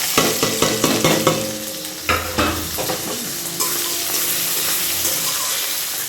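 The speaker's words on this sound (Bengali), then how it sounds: "পেঁয়াজগুলো এবার এর মধ্যে দিয়ে দেবো" Onions going into hot oil with dried chilli and five-spice, a burst of scraping spatula strokes giving way to a loud, steady sizzle.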